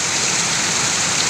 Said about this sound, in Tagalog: Malakas ang ulan at hangin.